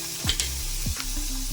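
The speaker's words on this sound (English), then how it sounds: "Now I am dry sauteing. I don't use oil when I cook." Cabbage being dry-sauteed without oil on a cooktop, a soft steady sizzle broken by a few clattering stirs of a utensil against the pan, close up and alone.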